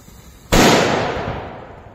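A Viper firework fountain with firecracker bursts goes off: a sudden loud blast at about half a second, then a dense crackling roar that slowly fades away, with no talking.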